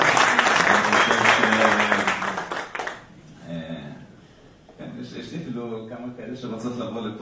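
An audience bursts into loud applause and cheering that fades after a few seconds, followed by people talking and laughing.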